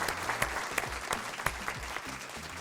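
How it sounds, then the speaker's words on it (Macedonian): Studio audience at a Macedonian TV quiz show applauding steadily, a dense wash of clapping with sharper individual claps standing out, under faint background music. "Ајде, аплауз одиме."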